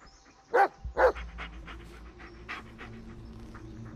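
A dog in the Blair Witch video game pants and huffs in two loud close bursts early on, followed by softer rhythmic breathing over a low steady game ambience.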